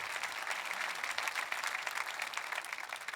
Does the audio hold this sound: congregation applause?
yes